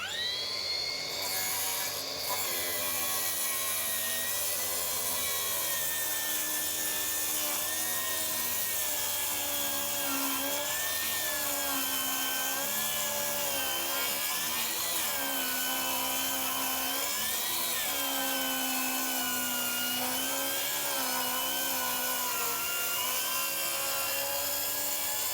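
A Milwaukee cordless track saw cuts through wood on an unclamped board, giving a steady, loud whining motor drone with shifting pitch for the whole cut and no talk over it.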